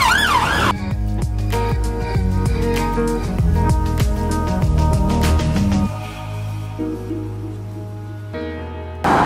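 A loud siren wails close by over the rumble of street traffic in Reigate, England, continuous and dominant, briefly fading near the end.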